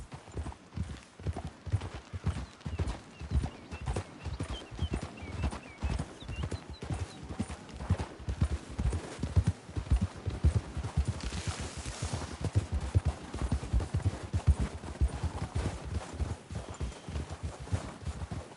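Horse hooves clip-clop steadily in a walking rhythm for a long stretch, with faint whinnying and a soft rush of background noise.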